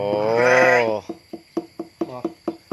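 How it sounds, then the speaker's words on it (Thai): A newborn lamb, about four days old, on a sheep farm bleats in one long wavering cry, followed by a rapid series of short, close, pulsing bleats. "ลูกแกะตัวน้อย ลูกแกะตัวน้อย"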